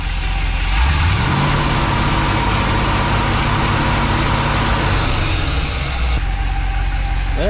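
A Mopar motorhome engine with a freshly rebuilt carburetor fires up after a moment and idles steadily, loud and close, with a slightly rough, knocking edge, then cuts off near the end.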